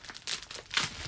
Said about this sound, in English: I'm kind of just opening this package